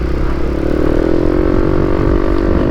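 A Yamaha NMAX 155 scooter fitted with a JVT V3 power pipe exhaust runs close and loud, its engine holding a steady droning note that rises slightly in pitch as it revs, with a rough, throaty rumble underneath.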